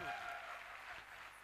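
Audience applause at a Hindi motivational direct-selling seminar, a dense wash of clapping that starts strong and holds steady for a moment, with a voice talking over it.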